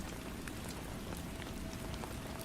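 Steady rain falls continuously, a dense even hiss of drops pattering on a surface with no gaps, close and moderately loud throughout.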